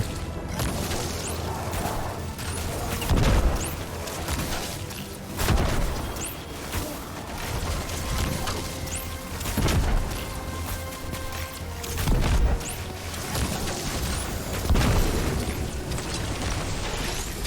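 Explosions in Destiny 2 go off repeatedly, about every two to three seconds, each a loud broadband boom standing over constant gunfire and game noise.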